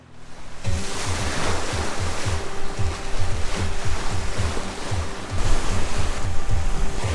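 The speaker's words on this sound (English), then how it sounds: "the wind is really starting to build" Steady wind roars against a sailboat at sea off Mexico's Pacific coast while waves slosh and slap the hull in a rolling rhythm, loud and continuous throughout with no voices.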